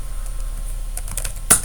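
Typing on a computer keyboard: a short run of light key clicks, close and fairly faint, ending in a slightly louder keystroke, with no talk.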